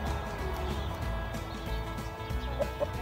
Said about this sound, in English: Oh yeah, that rooster.